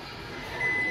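A Zojirushi rice cooker gives one thin electronic menu beep as a button is pressed, a short high tone over a steady background hiss of kitchen ambience.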